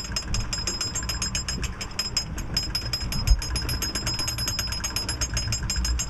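Motorised fishing reel driven by a starter motor, straining while hauling up a fish in the Gulf of Mexico: a loud, steady, rapid mechanical whine and clatter that runs continuously, with a single knock partway through.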